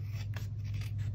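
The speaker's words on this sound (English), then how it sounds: "So just take your scissors" Scissors trimming cardstock for a pinwheel birthday card make a few soft, close snipping and rasping strokes over a low steady hum, with no voices.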